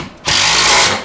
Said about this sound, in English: Oh, I've got to re-tighten a bolt.